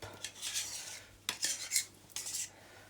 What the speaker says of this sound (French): on mélange bien tout ça. De manière à avoir quelque chose d'assez onctueux.